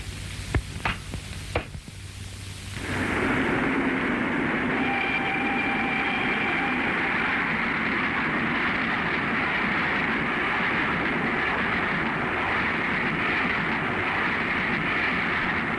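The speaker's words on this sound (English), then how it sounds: "After that, Helene and I were on the train to Vienna" A few sharp clicks, then a steady rushing rumble of a moving train with a faint high whine, continuous and fairly close.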